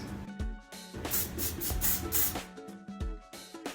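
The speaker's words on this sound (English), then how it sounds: "I like to use hairspray to keep my eyebrows in place" Hairspray sprayed onto eyebrows to hold them in place: several short, close hissing bursts with soft handling rustle between them.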